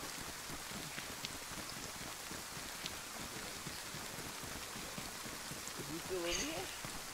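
Steady rain hisses across the outdoor landscape of the survival game DayZ, a dense, even wash of drops running throughout, with a brief burst of voice near the end.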